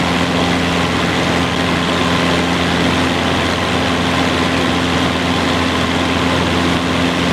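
A propeller plane's engine in a flight simulator game drones with a loud, continuous steady hum and a fixed tonal pitch, unvarying over several seconds with no talk.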